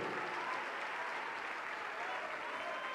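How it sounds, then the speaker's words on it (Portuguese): Church congregation clapping steadily in a reverberant room, a continuous wash of applause with no pauses. "Vamos aplaudir mais, vamos nos alegrar."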